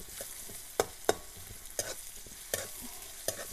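Chopped onion fries in hot oil in a pan, a steady broadband sizzle broken by sharp spoon scrapes and stirs about every second, close and clear with no voices.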